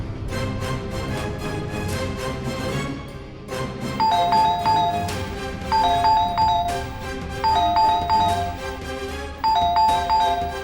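A doorbell rings repeatedly in chiming ding-dong bursts, several rings in a row with short gaps between them, loud and close.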